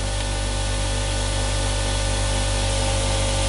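Single phase pulse motor generator running near 3000 RPM, a loud, constant electrical hum with a steady whine and hiss, unbroken throughout.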